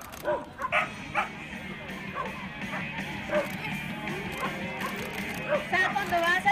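A small dog yips and barks in short bursts during a disc dog freestyle performance, its calls rising over crowd noise and an announcer's voice at an outdoor event.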